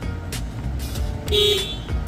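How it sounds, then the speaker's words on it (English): A car horn sounds when a red wire is grounded during an electrical diagnosis, a single brief honk near the middle of the clip over a low garage hum. "I give it ground and it honks."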